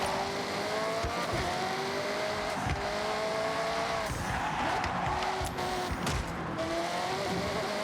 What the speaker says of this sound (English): A little bit of light off-roading in my massively expensive hypercar